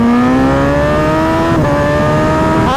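A Kawasaki ZX10R motorcycle accelerates hard on the Vallelunga race track. The loud, close engine howl climbs steadily in pitch, with a quick gear change about halfway and another at the very end.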